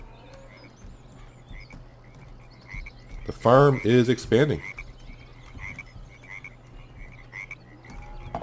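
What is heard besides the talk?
frogs croaking in swamp, Farming Simulator 17 video game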